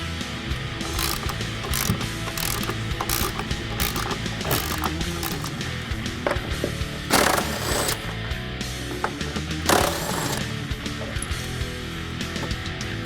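A ratchet clicks rapidly and repeatedly while bolts are loosened on the suspension of a 2015-2022 Ford Mustang, in bursts of close, sharp metallic ratcheting with short pauses between.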